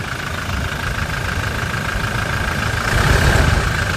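A Toyota Innova Crysta engine idles steadily right after a new exhaust was fitted, a continuous near rumble with a slight rise in loudness near the end, no talking.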